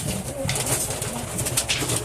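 Pigeons in a loft with young birds and an old hen, soft repeated cooing close by amid light rustling and a brief flutter.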